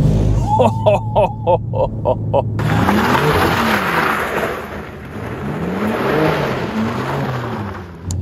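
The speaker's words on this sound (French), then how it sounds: "ce moteur 6 cylindres en ligne de 460 chevaux est absolument incroyable" A BMW M2's 460 hp inline six-cylinder engine growls and revs, rising and falling steadily under someone talking. The car is rear-wheel drive and tends to step its tail out.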